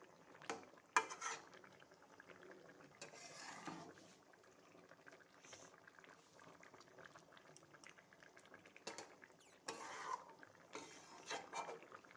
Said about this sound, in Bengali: ঝোলটা একটুখানি ফুটবে।